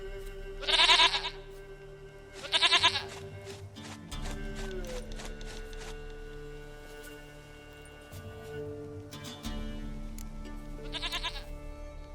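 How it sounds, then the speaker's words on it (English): A goat in The Hunt video game on Xbox One gives several loud, close bleats at spaced intervals over a steady droning musical backdrop. "Goat of mine, dearest, sweetest goat."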